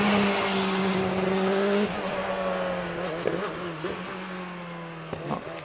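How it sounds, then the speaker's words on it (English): A Force PC 750 hill climb race car with a 1300cc engine accelerates away on a speed hill climb course, its high engine note climbing loudly through gear changes and then fading with distance. "The Force PC 750 of Paul Alexander gets away, this one with a 1300cc engine"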